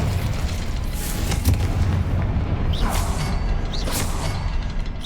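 Confringo spell explosions in Hogwarts Legacy, a dense rumbling barrage of booms and fiery bursts with whooshing impacts, loud and continuous throughout combat with no talking.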